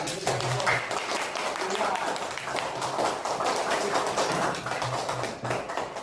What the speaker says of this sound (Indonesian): tepuk tangan dulu buat kelompok 3